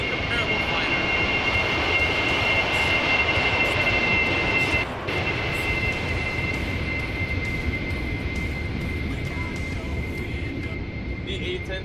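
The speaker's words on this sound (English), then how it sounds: "A-10 turbofan engines are more than just power to its performance" Twin turbofan jet engines of an A-10 Thunderbolt II in a Roblox airshow give a steady, loud whine and rumble that holds throughout, with a narrator talking over it.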